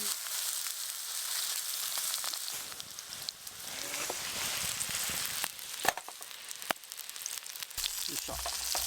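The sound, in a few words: hamburger patty sizzling in a frying pan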